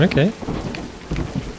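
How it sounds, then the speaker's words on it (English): Thunderstorm weather in the video game A Highland Song, with rumbling thunder and steady rain noise, and a voice speaking briefly near the start. "There's a thunderstorm a-brewing."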